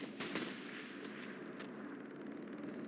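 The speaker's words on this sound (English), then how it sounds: "Seems like a bombing run." Distant bombing-run explosions in a Kharkov battle of a war video game, several dull booms and sharp cracks over a continuous rumbling battle din, no voices.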